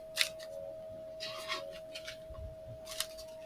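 Brief papery flicks and riffles of tarot and oracle cards being shuffled by hand, in a few quick bursts close to the microphone, with a steady faint hum underneath.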